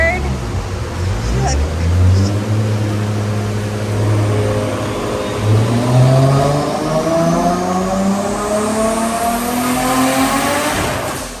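A Nissan 240SX with a stock RB25DET NEO engine and a slipping clutch revs on a dyno, its loud turbocharged roar climbing steadily in pitch toward the rev limit, with voices talking over it.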